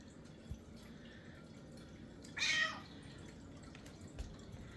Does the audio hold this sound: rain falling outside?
no